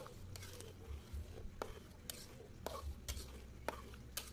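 Quiet stirring and scraping of peanut sauce in a pan with soft sizzling, punctuated by occasional spoon taps against the side.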